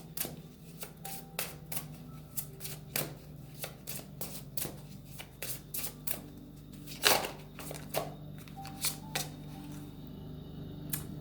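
Tarot cards being shuffled by hand, a run of crisp close riffles and slaps in an irregular rhythm, with one louder flurry near the middle, over a quiet low hum and no talking.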